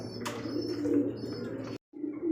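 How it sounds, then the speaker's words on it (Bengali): A pair of American Lakkha fancy pigeons coo close by in a brief burst of low, rolling calls, cut by a short silence before resuming. "এখানে দেখতেছি এক জোড়া লক্ষা কবুতর এটা হচ্ছে আমেরিকান লক্ষা"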